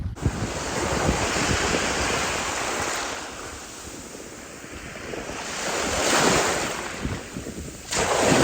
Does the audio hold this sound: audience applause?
no